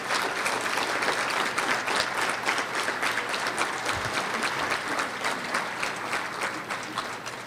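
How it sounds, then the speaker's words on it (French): Audience at a party general council meeting in Trois-Rivières applauding, a dense, steady wash of many hands clapping throughout, sustained and fairly loud before easing slightly toward the end. "Oui, on peut l'applaudir."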